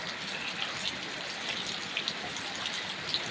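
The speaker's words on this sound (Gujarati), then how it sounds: "ભૂકા ગળી નાખ્યા એવો વરસાદ પડી ગયો છે મિત્રો" Heavy rain pouring down outdoors in a rural farm area: a dense, constant hiss of falling water, with scattered sharper drops and splashes standing out against the wash.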